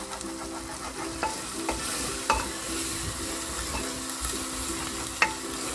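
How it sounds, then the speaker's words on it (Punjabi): Potato and pea curry is stirred and sizzles steadily in a cooking pan, with a continuous frying hiss and scattered sharp scrapes of the utensil against the pan, close and alone. "ਇਹਨੂੰ ਛੇੜਾ ਦਿੰਦੇ ਰਹਿਣਾ ਆ, ਰੁਕਣਾ ਨਹੀਂ।"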